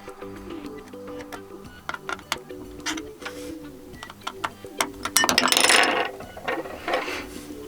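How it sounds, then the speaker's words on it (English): Small screwdriver turning out non-captive screws on a Ulefone Armor 3W rugged phone to reach the SIM and SD tray, a close series of dry ratcheting clicks and ticks with a brief louder scraping rustle near the end. "So let's take that screwdriver and unscrew it"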